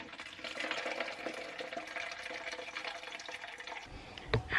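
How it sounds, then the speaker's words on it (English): Water running steadily from a tap to fill a drinking container, a continuous close rushing splash for several seconds, ending with a faint clink and knock as the flow stops. "I'm filling up my water"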